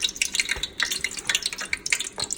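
Water sprinkled into hot frying oil for shrimp sets off a crackly, spattering sizzle of many quick pops, close and fairly quiet, with no talking.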